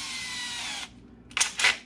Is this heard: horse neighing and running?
no